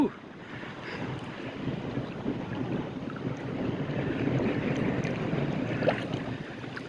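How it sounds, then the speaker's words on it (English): Wind blows hard against a tiny houseboat cruising on open water, a steady, rushing roar with buffeting on the microphone and the hum of the boat underneath. "look at the wind hit us now"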